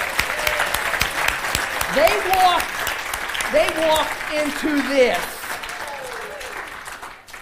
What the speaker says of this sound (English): Let's give those guys a big applause.